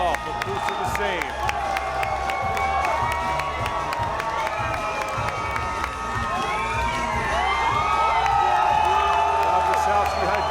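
A fight crowd roars continuously, cheering, whooping and clapping as a fighter in the ring hypes them up, dense and loud throughout and swelling toward the end.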